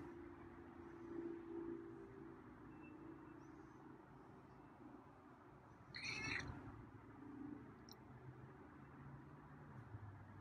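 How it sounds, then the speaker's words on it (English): A feral cat gives a single short chirpy meow partway through, fairly clear against a steady outdoor background hum. "Got some chirpy meows today."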